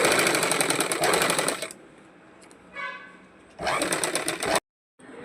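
Sewing machine stitching piping on a blouse, running in steady bursts of rapid whirring with short pauses between them, close and fairly loud, with no talk.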